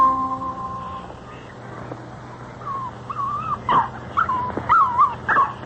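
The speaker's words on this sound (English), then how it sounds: "Sparkie's sitting on the front porch playing with his dog, Bunny." A dog whimpers and yips in an old-time radio drama, starting with a faint steady tone, then a run of high whining whimpers and short yelps that grow louder toward the end.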